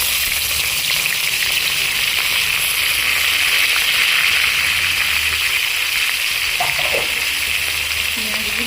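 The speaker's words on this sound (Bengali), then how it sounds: "এবার আমি পেঁয়াজ কুচনোগুলো দিয়ে দিই।" Chopped onions frying in hot salted oil, a loud, constant hiss and crackle close by, with faint spatters and a brief clatter toward the end.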